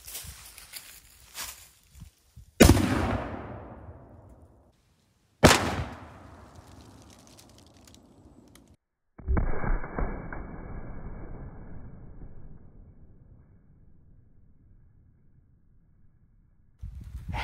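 Sharp gunshots firing 3D printed PLA tank rounds outdoors: three loud cracks spaced a few seconds apart, each trailing a long decaying echo, followed by a sustained rumbling tail.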